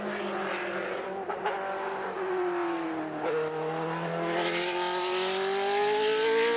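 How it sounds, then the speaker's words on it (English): Racing car with a Judd engine screaming past, its pitch sweeping and climbing as it revs hard, loud and close throughout with a brief dip before surging again. "The Judd engine performed well."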